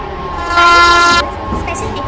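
A train sounds its horn in a train simulator game featuring an Indian express like the Coromandel Express. The horn gives one loud, sustained blast of about half a second, set against steady rail noise, while a station announcement voice can be heard.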